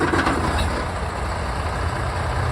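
A 4x4 truck crawls backward in 4-low with the rear differential locked, pulling a vehicle stuck in a deep hole; a steady, loud low engine rumble runs throughout with no talk.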